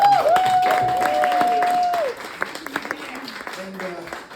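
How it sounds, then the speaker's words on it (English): Clapping from an audience, a steady patter of many hands that thins out into scattered claps, opening with a sustained whistle-like tone. "So, a round of applause for them."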